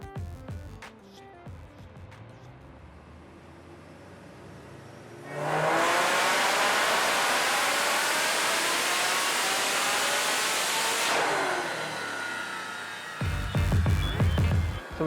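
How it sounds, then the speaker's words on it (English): A supercharged 2007 Shelby GT500 with long-tube headers and a Kooks cat-back exhaust roars on a chassis dyno, a sudden loud wide-open pull lasting about six seconds with rising engine pitch, then winding down before shop clatter. "Let's get it up on the dyno here and see what the car makes."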